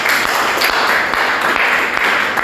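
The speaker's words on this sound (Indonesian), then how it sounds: "Tepuk tangan dulu." Applause from a classroom audience at the end of a lecture presentation, a steady dense patter of many hands clapping at fairly close range for a couple of seconds.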